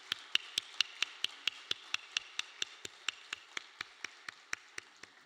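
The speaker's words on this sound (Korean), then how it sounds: "다 같이 감사와 격려 박수 하겠습니다" A church congregation at a Wednesday evening worship service claps together in thanks and encouragement, the sharp hand claps coming in a steady, even rhythm at moderate distance, with no talking over them.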